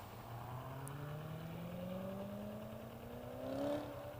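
A car engine revs up in a rising pitch sweep, held at moderate distance, climbing gradually and peaking near the end before easing off, with no talk over it.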